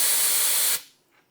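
Fluid squirts out as a fine mist on a 1964 Chrysler New Yorker, a steady loud hiss lasting under a second before cutting off into near silence.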